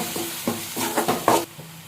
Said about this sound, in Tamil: இப்போ இந்த மசாலாலாம் நல்லா வதங்கி வரட்டும் ஒரு டூ டூ மினிட்ஸ் வந்து நல்லா வதக்கிக்கோங்க